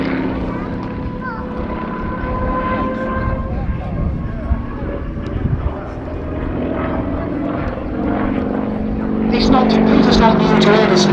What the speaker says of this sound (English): Peter's aircraft is one of only 3 that have been built in the UK